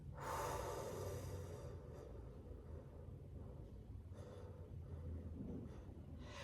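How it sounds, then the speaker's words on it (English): A person breathes slowly and deeply during a breathing exercise, one long, close, airy breath that fades into quiet, followed by a softer breath, with a low rumble underneath and no talking. "you release the breath by breathing out for 8 seconds slowly"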